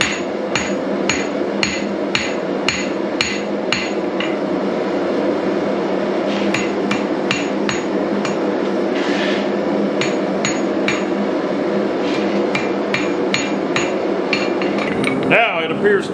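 A blacksmith hammers a bevel onto a small letter-opener sword at close range, with sharp ringing metal strikes in a fast, steady rhythm over a constant background roar, pausing briefly before a final scraping clatter.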